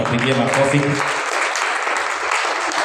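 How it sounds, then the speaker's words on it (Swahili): A church congregation bursts into loud, sustained applause, steady dense clapping filling the room, with a voice speaking over it during the first second. "Tuwapigie makofi."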